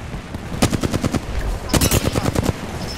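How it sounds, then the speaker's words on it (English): Automatic gunfire in the video game Apex Legends, two rapid bursts of close, loud shots, the first lasting about a second and the second after a short pause, with no talk over them. "They're shooting at me."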